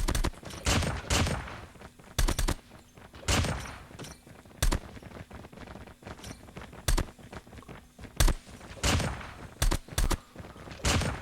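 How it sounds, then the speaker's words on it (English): Man-O-War rifle in COD Mobile, loud sharp gunshot bursts in irregular clusters of a few rounds each, separated by short gaps with quieter footsteps and movement between volleys. "it is a slow firing gun"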